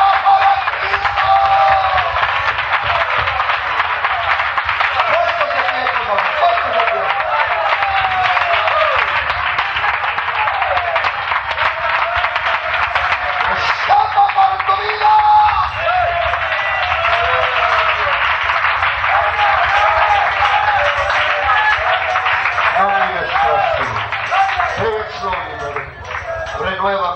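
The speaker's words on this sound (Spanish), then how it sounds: "Un aplauso para Cristo." A congregation at a church service claps loudly and continuously for nearly half a minute, with raised voices and shouts mixed into the sustained applause before it thins slightly at the end.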